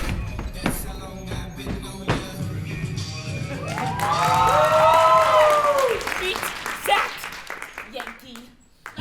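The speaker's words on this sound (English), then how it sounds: "Let's hear it for Olga Khrushchev." Audience applause and cheering for a runway model at a fashion show, a dense wash of clapping that swells to a loud peak with shrill whoops and shouts, then tapers off; a voice speaks over it.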